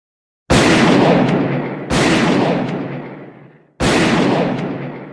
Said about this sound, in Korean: 총성이 울렸습니다.